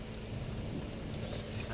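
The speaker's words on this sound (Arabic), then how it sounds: "تمطر بعد الان" Steady rainfall in Riyadh during Ramadan, a continuous dense hiss of drops with no breaks, fairly close and even in loudness throughout.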